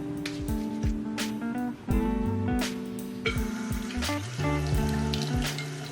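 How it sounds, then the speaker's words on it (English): Tap water runs steadily into a bathroom sink during a face wash with a milk cleanser, a continuous close splashing stream with small bursts of clatter and shifting flow. "So I just finished washing my face"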